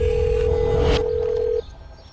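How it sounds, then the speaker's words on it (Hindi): A telephone ringback tone on an unanswered call: one steady, unbroken tone holds for about a second and a half over a low background hum, then cuts off, leaving quiet room noise. "अब देखो रिंग जा रही, फोन ही नहीं उठा रहा।"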